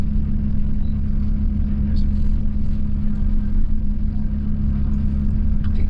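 A car drives along a ridge road above Megalong Valley in the Blue Mountains, its engine and tyres making a steady, loud, close low rumble that holds unbroken throughout.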